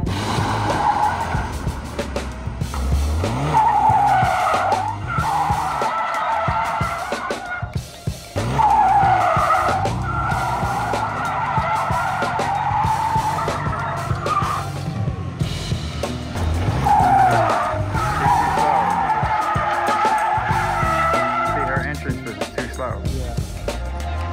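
A drift car slides sideways in second gear around a cone, tires skidding and squealing loudly over a steady engine roar, with surging squeals repeating through the run.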